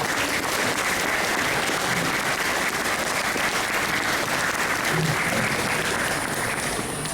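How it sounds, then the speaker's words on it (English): A church congregation at a Hmong New Year gathering claps for its leaders, a continuous, even wash of applause heard from within the crowd at moderate level, with no talking. "let's all give them a round of applause for their leadership."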